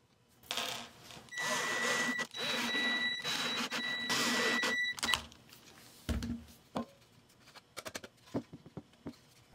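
Plastic mesh cut from a dollar-store draining basket, heard as several bursts of steady close snipping and crunching with a sharp squeak in them, followed by scattered single clicks and taps as the cutting stops.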